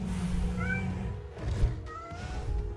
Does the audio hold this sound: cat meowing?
yes